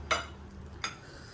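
Raw onion bitten and chewed alongside spicy noodles, giving two sharp, crisp crunches close to the mic about three-quarters of a second apart, with quiet pauses around them.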